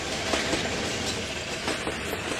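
A train runs along the rails with a steady rumble and rhythmic clickety-clack of wheels, close and continuous, with a faint squeal near the end.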